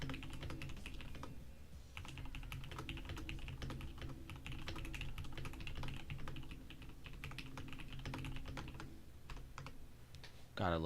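Steady, close-up typing on a computer keyboard, quick clacky keystrokes running the whole time over a low background hum, with no voices.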